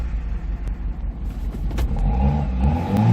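A cold Nissan Figaro engine idles and then rises into a rev, a near, low mechanical rumble that climbs in pitch toward the end.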